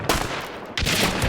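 Two loud close gunshots from Hunt: Showdown, the second about two-thirds of a second after the first, each with a booming tail, showing a slow rate of fire.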